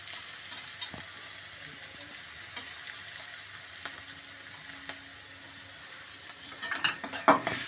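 An egg roll mixture with chopped green chillies fries softly in a pan, giving a steady low sizzle, with a few louder clattering stirs near the end.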